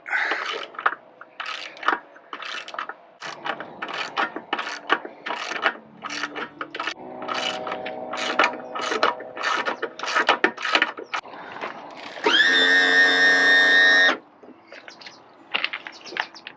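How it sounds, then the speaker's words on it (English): A ratchet with a 12mm socket loosening bolts on a Yamaha F300 outboard during water pump and impeller work on a Ranger Tug R27: rapid bursts of close, sharp clicking, broken by a short steady mechanical whine. "It's a 12mm socket."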